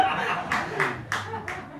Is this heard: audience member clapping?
yes